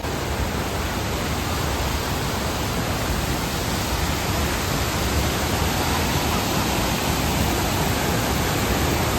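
Steady, dense roar of the Urulikund waterfall at Irikkur in Kannur, a continuous broadband rush of falling water filling the whole scene at close range, unchanging in level with no voices.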